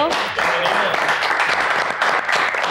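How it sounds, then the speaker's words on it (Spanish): Audience applause for a football goalkeeper at a live talk event, a dense burst of clapping with voices mixed in underneath throughout. "así que un aplauso"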